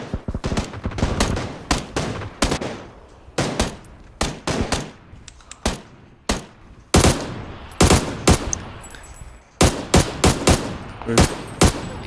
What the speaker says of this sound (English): We're shooting at them right now.